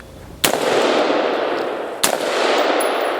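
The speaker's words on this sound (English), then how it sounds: "I'm just shooting into the dirt." Two loud, close shotgun blasts about a second and a half apart, fired one-handed into the dirt, each leaving a long rumbling decay.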